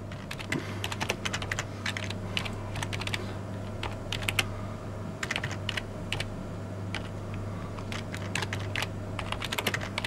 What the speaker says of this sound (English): obviously just type in your details, whatever they may be